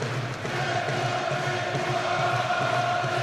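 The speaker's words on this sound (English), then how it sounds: "Crowd trying to lift him again here." A big boxing crowd roars and chants in a steady wall of noise to lift Ricky Hatton during his fight with Vyacheslav Senchenko, sustained and loud with no clear breaks.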